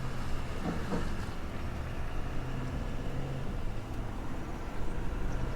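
A 2021 Ford F450 Platinum pickup in tow-haul mode accelerates smoothly while towing a heavy load, giving a steady low engine drone mixed with road and wind noise from inside the cab.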